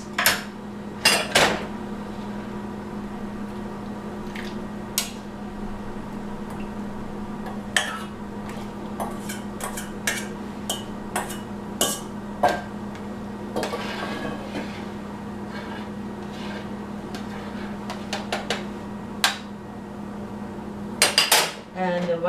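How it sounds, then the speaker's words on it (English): Chopsticks stir egg drop soup with spinach in a pot, giving sharp intermittent clinks and taps against the metal pot over a steady low hum, scattered through the stretch with a busier cluster near the end. "I just use the chopsticks to guide the eggs to go into the water. Give it a good stir."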